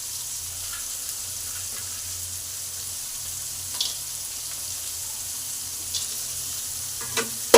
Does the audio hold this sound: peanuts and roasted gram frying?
yes